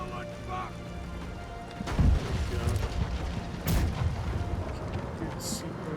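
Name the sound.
cannon firing in a video game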